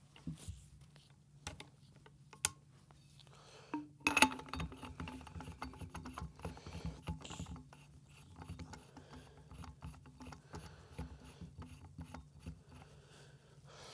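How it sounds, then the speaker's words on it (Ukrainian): The bolt of a PUS-7 mechanism slides into place with soft metallic clicks, ratcheting scrapes and a sharper snap, all close-up and quiet. "Вставляємо затвор. Тут натискати на важіль не потрібно, затвор входить самостійно."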